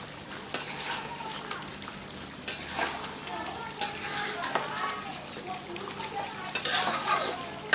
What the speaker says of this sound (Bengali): তো আমি এখানে কষাই নিচ্ছি।